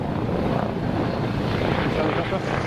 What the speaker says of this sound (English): I think we've got the police helicopter coming in as well